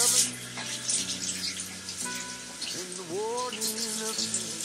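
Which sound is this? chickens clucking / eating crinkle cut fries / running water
running water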